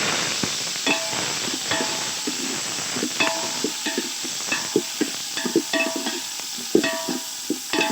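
Onion and tomato frying in a pan for a village-style crab gravy, with steady sizzling and bursts of spoon scraping and stirring at close range, with no talking.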